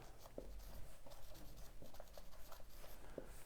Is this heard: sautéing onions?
no